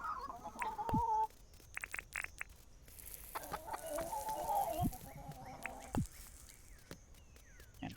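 Chickens in the farming game Dinkum cluck in short, repeated bursts over a quiet background, with a few sharp clicks and a brief bright interface tone between the calls.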